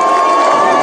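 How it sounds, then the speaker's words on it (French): A crowd cheers and shouts with joy as a world record is broken at an outdoor challenge event, a loud, dense roar of voices sustained through the whole moment. "Des cris de joie pour Ludovic Chorgnon, le record mondial est"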